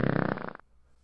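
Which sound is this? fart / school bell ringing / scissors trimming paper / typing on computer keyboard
fart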